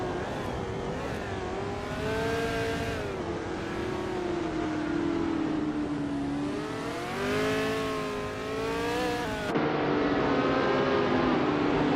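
A 1968 McKee Mark 12 race car engine in a racing video game, droning and revving steadily, its pitch rising and falling through gear changes and throttle shifts, loud and close, with no talk.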